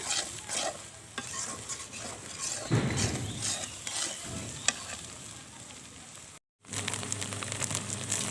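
Egg frying in a pan with salt while being stirred and broken up, a steady sizzle with repeated scraping spatula strokes, a brief sharp tap partway through and a short silent gap before the frying resumes.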